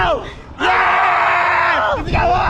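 A group of people in a playful Filipino setting yell together on a count, letting out a loud, sustained collective shout that cuts off and then rises again in a second burst.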